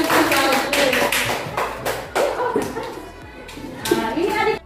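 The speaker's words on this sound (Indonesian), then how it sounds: "coba beri aplaus dulu, tepuk tangan dulu semua" Children clapping their hands in applause before a poetry recitation, a quick ragged patter of claps mixed with voices of talk and kids chattering nearby.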